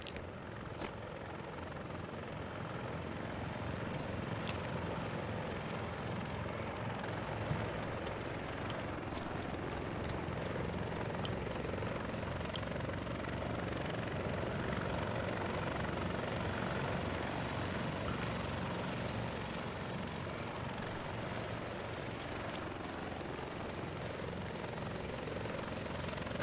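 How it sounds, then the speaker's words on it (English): Helicopter in the Arma 3 video game, a steady droning rotor and engine noise holding at even loudness throughout, continuous and fairly close, with no break. "That is a helicopter I'm hearing,"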